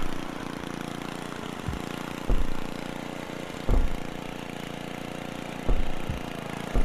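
A lawn mower engine in the Happy Wheels video game drones at a steady low idle, with periodic thumps and bumps breaking through the continuous motor hum, no voices.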